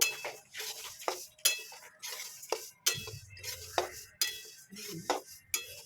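Sesame seeds dry-roasting in a hot wok, stirred with a utensil: repeated sharp scraping clinks and rattles in an uneven rhythm, close and fairly quiet, with a faint sizzle between strokes.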